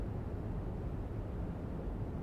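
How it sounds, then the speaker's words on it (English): Steady, low broadband hum of air conditioning filling a London Overground train cab in Train Sim World 4, constant and unbroken with no voices. "you got the aircon noise going on as well"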